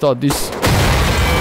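An explosive gas-tank barrel bursts in Wolfenstein: The Old Blood, a loud, close blast that follows a brief spoken phrase and leaves a broad roaring rumble for about a second.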